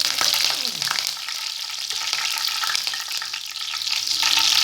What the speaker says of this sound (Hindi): अब तड़का बना के साथ डालती हूँ।